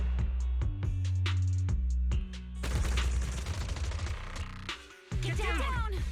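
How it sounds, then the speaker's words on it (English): Suppressive marching gunfire in Zenless Zone Zero, rapid repeated shots in bursts over music and other game sound, with a voice talking partway through. "Gunfire? This pattern. Suppressive marching fire."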